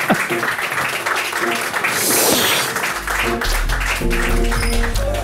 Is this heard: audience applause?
yes